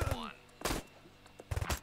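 Short bursts of gunfire from the tactical shooter game Door Kickers, three loud broadband cracks spaced about half a second apart, with a voice speaking briefly at the start.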